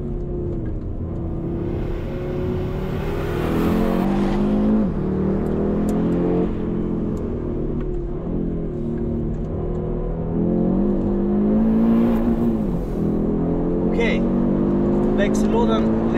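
A 2022 Audi RS 3 accelerates on the road, its engine note rising steadily through the gears with a couple of shifts, heard from inside the cabin while someone talks over it.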